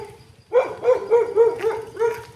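A dog barks indoors in a run of about six loud, close, evenly spaced woofs, with some faint room noise beneath.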